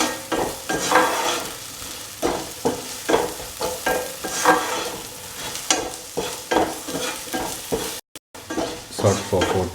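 Tender mango, onions and curry leaves stirred and frying in a pan, with a steady sizzle broken by repeated scraping stirs at an irregular rhythm, close and fairly loud, with no talking.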